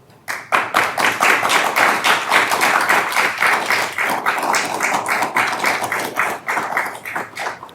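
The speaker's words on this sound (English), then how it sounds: "I love the COVID applause." A small, socially distanced audience at a city State of the City address claps in scattered, distinct hand claps, a sparse and fairly close round of applause that continues for several seconds.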